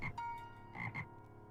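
A frog croaks in a few quick throaty bursts, close and clear, with a short pause between the first call and the final pair.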